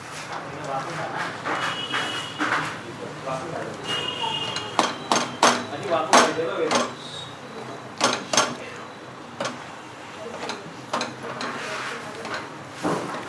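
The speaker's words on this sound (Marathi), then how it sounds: "कोथिंबीर चिरून टाकूया" Fresh coriander being chopped with a knife while making a ridge gourd and onion dish, a run of sharp, close taps in irregular bursts mixed with other kitchen clatter.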